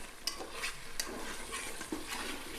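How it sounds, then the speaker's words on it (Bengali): A spoon scraping and stirring chicken pieces in a pot for chicken khichuri in a rice cooker, a few soft, close scrapes over a faint low sizzle. "আমরা আর একটু নাড়া দিয়ে দিচ্ছি যাতে নিচে না লেগে যায়।"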